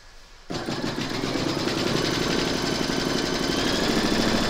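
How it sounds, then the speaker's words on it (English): A home embroidery machine stitching a round on a hooped drawstring bag panel with batting, starting abruptly and then running in a fast, steady mechanical chatter, close and loud. "Pop your hoop into your machine and stitch round number 6 to secure it."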